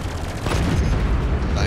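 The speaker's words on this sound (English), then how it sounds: "Heavy machine gun does some serious work on these guys." A heavy machine gun in a space combat game fires a loud, dense, continuous burst of rapid shots blending into a roaring wash of gunfire.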